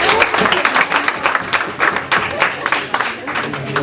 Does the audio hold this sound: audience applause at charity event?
yes